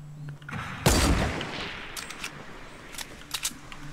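Rockets fired in the video game Fortnite Battle Royale: one loud, sharp blast followed by a long rumbling decay, then several fainter distant bangs and pops scattered after it, with no talk.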